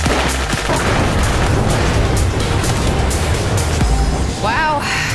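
Animated Ferraris blow up in a fast burst of loud explosions and crackling booms, dense and continuous, with game-like effects and a brief warbling tone near the end.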